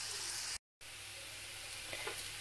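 Onions and peppers frying in a pan, a steady soft sizzle and hiss that runs throughout, broken by a brief moment of silence.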